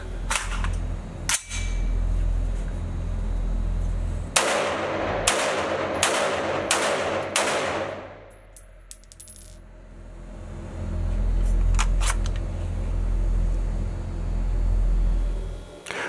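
CheyTac CT-15 rifle fed from a hex magazine firing at an outdoor range: a loud report, then a quick string of sharp shots with metallic clatter, followed by quieter mechanical handling noises and ambient outdoor background.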